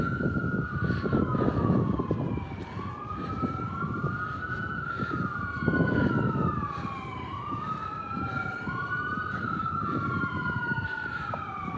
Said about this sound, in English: So the ambulances that you're hearing that are fairly close are on the 79th Street traverse